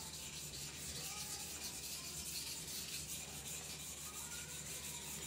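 A knife blade being polished on a sharpening stone, a continuous gritty rubbing with quick back-and-forth strokes, close but very quiet.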